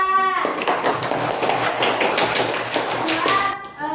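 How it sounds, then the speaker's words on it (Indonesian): A classroom of students claps for a group after its presentation, steady dense clapping throughout with a few children's voices and whoops over it, near and loud. "Tepuk tangan untuk kelompok 2."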